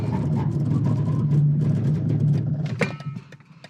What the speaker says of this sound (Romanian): țineți-vă bine că îi dau o talpă frână